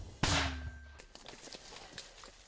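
A single gunshot near the frontline during a Ukrainian marines offensive, one sharp loud blast with a boomy low tail lasting under a second, followed by faint scattered crackles and rustling.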